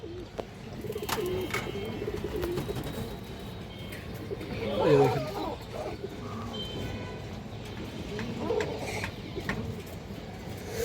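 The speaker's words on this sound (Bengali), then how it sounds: "এই যে মাদিরা দেখেন মশাল্লাহ খুব সুন্দর একটা মাদি কবুতর" Pigeons coo softly and repeatedly in a loft where female breeding pigeons are kept, their low throaty calls rising and falling over a steady background hum. Someone speaks intermittently nearby.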